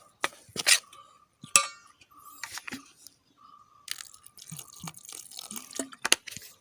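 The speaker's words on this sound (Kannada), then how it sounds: "ಇದನ್ನು ನಾವು ನೀರು ಹಾಕಿ ಹಿಟ್ಟನ್ನು ಚೆನ್ನಾಗಿ ಕಲಸಿಕೊಳ್ಬೇಕು" Water is poured into flour batter for stuffed brinjal bajji, giving trickling drips and splashes with intermittent clinks and mixing sounds in a quiet kitchen.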